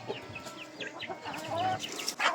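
Chickens cluck nearby, with a quick run of short overlapping clucks and calls.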